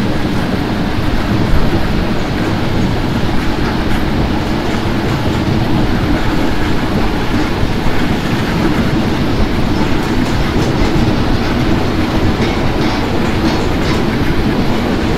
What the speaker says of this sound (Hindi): थ्रॉटल पावर इंक्रीज करते हैं और यहाँ से डिपार्ट करते हैं स्पीड में।